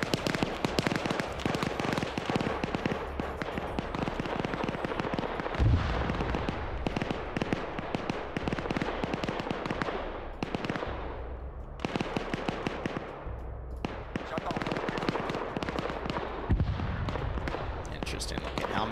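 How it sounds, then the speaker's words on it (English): Dense bursts of video game gunfire crackle almost continuously, rapid and overlapping, with brief lulls, while people talk over the shooting. "he just has to go up and follow the gunshots"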